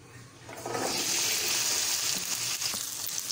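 Okra pieces dropped into a hot pan with about two spoons of oil, bursting into a loud, rushing hiss that swells quickly and carries on steadily, heard close with no speech.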